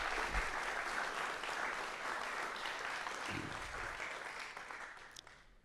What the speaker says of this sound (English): Let's give a big round of applause for all our Cardinal Fellows.